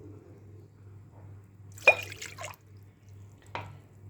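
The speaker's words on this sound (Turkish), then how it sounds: "2 su bardağı ılık suyu döküyorum" Warm water poured for potato börek dough gives a short splashy burst over a low steady hum, followed by a brief second splash.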